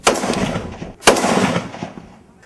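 Two sharp, loud rifle reports about a second apart at an army training range, each cracking out and trailing off in a rolling echo.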